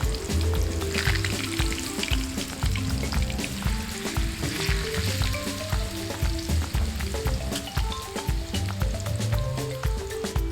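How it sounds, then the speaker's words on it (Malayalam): A marinated fish piece frying in hot oil, giving a steady, close crackling sizzle that runs the whole time, with tonal background music underneath. "എണ്ണ ചൂടായി വന്നിട്ടുണ്ട്. ഇതിലേക്കായി ഈ കഷ്ണം വയ്ക്കാം."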